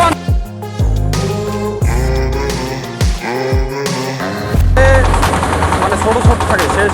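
A head-feed rice threshing machine runs loud and close, with a continuous mechanical roar broken by rapid rattling bursts as paddy feeds through, growing denser and harsher toward the end.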